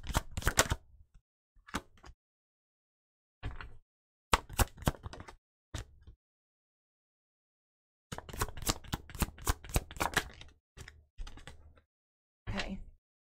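Hidden Truth cards shuffled in several close, crisp riffling bursts separated by pauses, the longest flurry near the end, with no talking.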